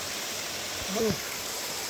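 Steady broadband rush of a waterfall on a Blue Mountains trail, constant and moderately loud, with a brief voice briefly rising above it midway.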